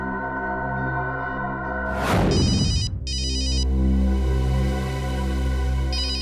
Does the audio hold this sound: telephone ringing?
yes